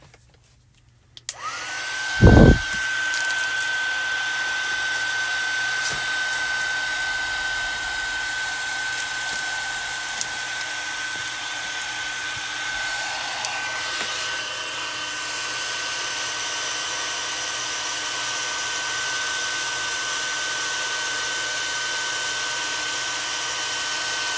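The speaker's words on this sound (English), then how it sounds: "we're going to heat this up" A handheld heat tool blows steadily onto heat embossing powder on a handmade greeting card, switching on with a short jolt and then holding a constant loud whirring hiss throughout.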